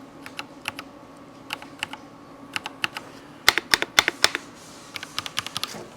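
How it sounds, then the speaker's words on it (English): Keys clack on a Glorious GMMK3 mechanical keyboard held close to a microphone, sharp individual strokes in loose irregular bursts with short pauses, a denser flurry near the middle, and no talk. "Let's see what these keys sound like. I'm going to put it up to my microphone."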